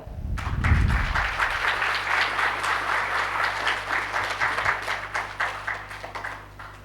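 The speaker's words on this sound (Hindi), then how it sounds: "जोरदार तालियां।" Audience applause at a day-long seminar session, starting with a low thump and then a steady, lively patter of many hands clapping in a hall that continues throughout.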